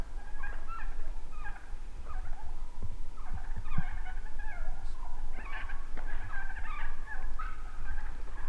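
A Merriam's wild turkey gobbles repeatedly in rapid rattling bursts, moderately distant outdoors over a steady low background rumble.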